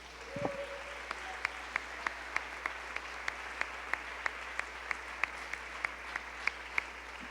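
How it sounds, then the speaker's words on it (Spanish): A church congregation claps in a steady rhythmic beat, sharp regular claps spaced evenly throughout, after a brief low sound at the start. "Denle ofrenda de palmas al Señor."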